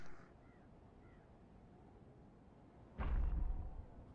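A few faint crow caws sound early in a quiet scene from the video game The Secret World, then a louder low rumbling swell rises near the end.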